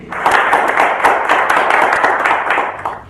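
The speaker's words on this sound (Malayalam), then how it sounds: "നിങ്ങളുടെ കയ്യടി കേൾക്കുക എന്നുള്ളത് ഈ കലാകാരന്റെ പ്രതീക്ഷയും" An audience applauds a performer with loud, sustained clapping that holds steady for the whole stretch.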